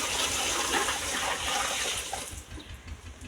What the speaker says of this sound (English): The next thing now is for me to start pouring this water.